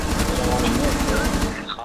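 Rapid automatic gunfire in Rainbow Six Siege, a dense loud burst of evenly spaced shots running through the whole moment, with voices faintly underneath.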